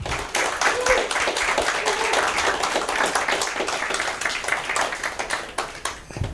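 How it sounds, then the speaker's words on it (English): An audience claps steadily for the comedian Dallas at a stand-up show. Dense, close applause holds for about six seconds and thins slightly toward the end, with a few voices mixed in. "Let's clap for Dallas one more time."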